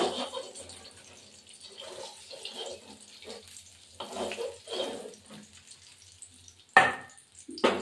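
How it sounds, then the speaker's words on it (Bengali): Whole cumin seeds sizzling in hot oil for tempering, a low crackling sizzle with intermittent louder bursts and spits, close up and with no talking. "ফোড়নে গোটা জিরে, এই যে গোটা জিরে দিলাম।"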